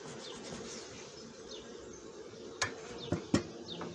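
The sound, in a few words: honeybees at a queen-rearing hive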